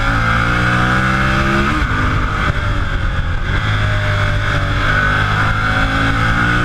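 A Ducati Monster 1200 S motorcycle ridden through bends, its engine loud and close, droning steadily with rising and falling revs as the rider brakes hard and accelerates out of curves.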